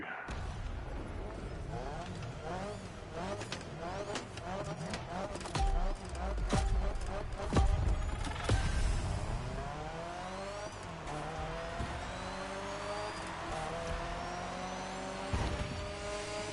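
Race car engine in The Crew Motorfest during a lap race, revving up and down through gear shifts with tire squeal and skids, loud and continuous, with a voice talking over parts.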